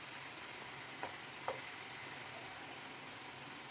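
Cheeselings frying in oil on a medium flame, a soft continuous sizzle with two brief clinks or stirring taps, close and quiet with no talking.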